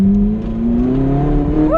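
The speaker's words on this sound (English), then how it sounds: "this is where you get full acceleration" A red Ferrari accelerating hard on a race track, its engine note loud and close, climbing steadily in pitch throughout with no talk over it.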